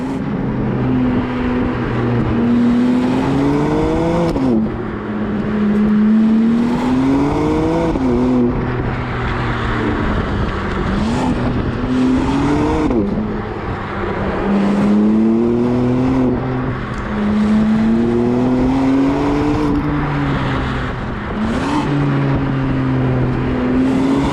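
A 2024 BMW M2 G87 with its S58 engine drives on a mountain road, loud engine note repeatedly rising through the revs and dropping at each gear change, steady and close throughout.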